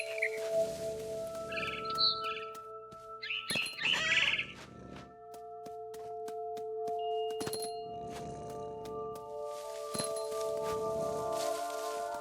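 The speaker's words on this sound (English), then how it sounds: "Then I heard chirping outside my window. It was a barn swallow going back to her nest." Barn swallow chirping in the video game What Remains of Edith Finch, short bright bird calls scattered through the scene over steady tonal game music and ambience.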